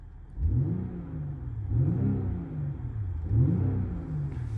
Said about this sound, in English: showing the M performance exhaust